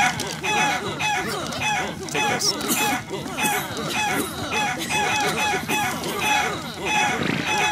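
In the video game ARK Survival Evolved, a turkey gobbles and clucks in rapid repeated bursts, loud and close, while a person talks over it.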